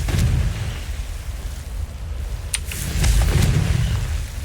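Confringo explosion spell in the Hogwarts Legacy video game, a dull booming blast with crackling pops and a rumbling low tail, steady and fairly loud without speech.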